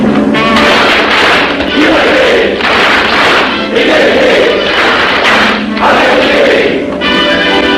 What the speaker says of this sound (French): À moi mes frères, par le signe, la triple batterie et l'acclamation.